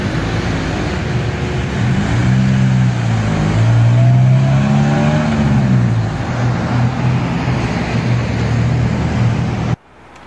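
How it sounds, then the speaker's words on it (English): A worn Toyota Corolla drives along with a loud, close engine drone that rises and falls as it accelerates and eases off, then cuts out abruptly at the end. "just cruising my Corolla"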